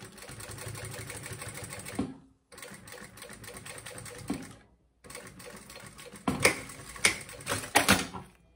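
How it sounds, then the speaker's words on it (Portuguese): A sewing machine stitches a fabric pouch for a synthetic-leather box-style cosmetic case, running in three steady, rapid whirring bursts separated by brief pauses, the last burst louder with sharp clacks. "Levanta o calcador, passa o cursor pra lá e vem costurando."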